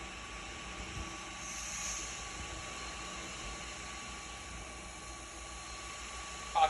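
A JET JTM-4VS-1 CNC vertical milling machine with ProtoTrak control feeds its spindle down, giving a steady, even whirring drone with a faint high whine and no distinct events, moderately quiet and unchanging until a brief click at the end.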